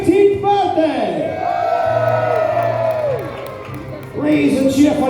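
A large arena audience at a Medieval Times show in Lyndhurst, New Jersey, on Christmas Eve, loudly cheering, whooping and yelling in rising and falling swells, close and continuous, briefly easing before a fresh burst.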